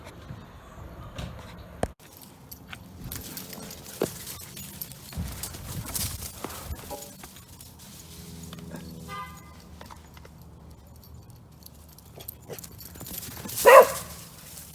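Two dogs play outdoors, trading scattered barks, yips and whimpers amid scuffling and panting, with a louder burst of barking near the end.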